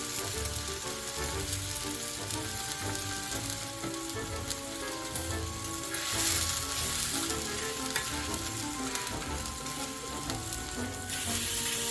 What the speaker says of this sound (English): Take a little olive oil We got a nice hot cast iron skillet.